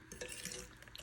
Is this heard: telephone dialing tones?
no